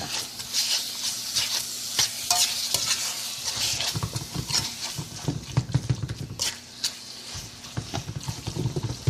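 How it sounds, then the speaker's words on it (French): Meat fries in oil with onion, garlic and green onion while being stirred, a steady close sizzle broken by frequent scraping strokes of the utensil against the pan. "qui cuit dans l'huile, ça sent tellement bon"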